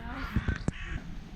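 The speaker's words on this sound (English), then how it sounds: "Birds." Crows caw outdoors in Skopje, Macedonia, a few harsh calls in quick succession at moderate distance, followed by a faint background hum with no talk over them.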